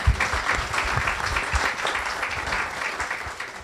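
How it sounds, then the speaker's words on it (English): A theatre audience applauds for the production crew, a dense, steady clatter of many hands with occasional louder claps, no talk over it. "Yes, you can applaud for them."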